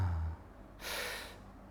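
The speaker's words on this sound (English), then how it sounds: "when you're breathing in and out in a rhythm, a faster rate than you normally do, and when you're using your mouth at the same time and letting go on the exhale" A forceful open-mouth breath from a shamanic breathwork demonstration, faster than normal breathing, comes as a single close, airy rush after a low breathy start.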